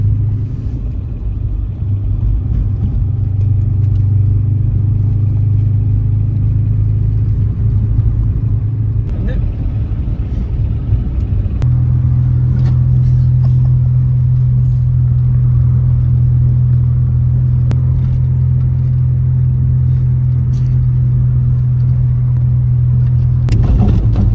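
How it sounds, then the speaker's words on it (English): A 30-year-old car cruising steadily along a country road with a constant low engine rumble and road noise throughout, loud and close from inside the cabin. "Me and my mum then continued on with our lovely country drive until the brakes felt good"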